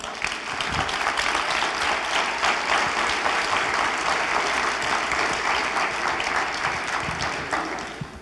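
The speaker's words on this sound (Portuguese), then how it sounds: "Quer aplaudir? Vamos aplaudir ao Senhor." A church congregation applauds together, a dense, loud, sustained wash of clapping that holds evenly for about eight seconds before easing slightly at the end.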